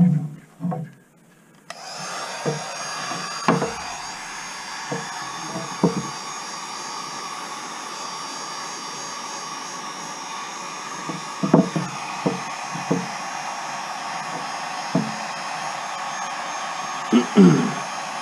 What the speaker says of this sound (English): let's warm this up with a heat gun